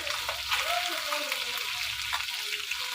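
Singhi fish frying lightly in a pan give off a soft, quiet sizzle, with faint stirring and a few scattered crackles throughout.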